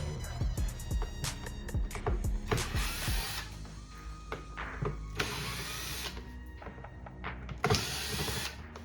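Screws are backed out of car door trim on a 2019 Infiniti Q50 with a power tool. It gives repeated close ratcheting clicks and short whirring bursts, with pauses between them.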